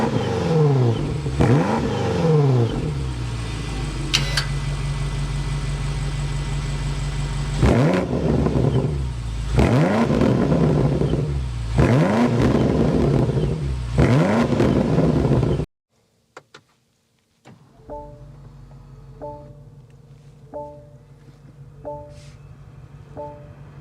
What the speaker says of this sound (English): start up this twin turbo V8 so you can hear that exhaust note.